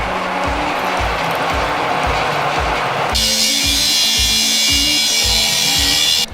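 Power drill boring out a metal insert for pipe work, a loud continuous whir with a pulsing rhythm close by that shifts to a harsher, higher grind midway, with no talking.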